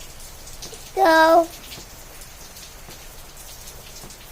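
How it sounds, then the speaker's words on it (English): Steady rain patters outside throughout, soft and even, while a person briefly says a word over it. "it's really raining today."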